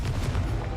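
Confringo, the fiery blasting spell in the Hogwarts Legacy video game, goes off as a brief, heavy, rumbling boom, loud and close, with no talk over it.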